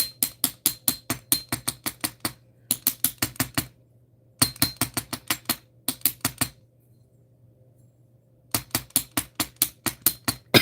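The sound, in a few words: hammering metal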